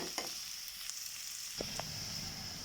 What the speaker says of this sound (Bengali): এই তো আমার পেঁয়াজ ভাজাটা হালকা হয়ে যাচ্ছে।